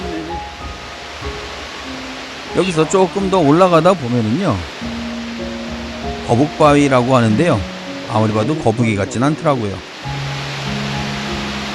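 A mountain valley stream flows steadily near Cheongpyeongsa temple in Chuncheon, a constant rushing wash of water beneath someone talking at intervals.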